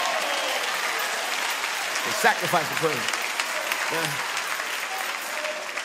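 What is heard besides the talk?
congregation clapping hands in praise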